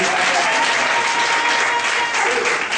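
A church congregation at a Sunday service applauds, a loud, dense burst of many hands clapping together, sustained and close with a faint murmur of voices.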